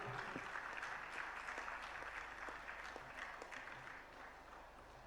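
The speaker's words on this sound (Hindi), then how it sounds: "तालियों के साथ अनुमोदना।" Applause from the gathered audience at a Jain religious discourse event, a dense steady patter of many hands clapping throughout, moderately distant and fading slightly toward the end.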